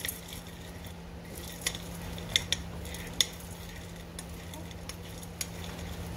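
Spoon stirring a fudge mixture of coconut oil and cashew butter in a pot, faint soft scraping with a few sharp clicks of utensil against the pan, close and quiet over a low background hum.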